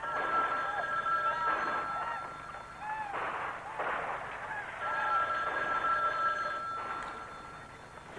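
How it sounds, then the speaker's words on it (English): A telephone rings repeatedly in a house, its trilling bursts coming in a regular pattern at moderate volume against a quiet background, with faint sounds in between. "Take the phone off the hook, Turkey."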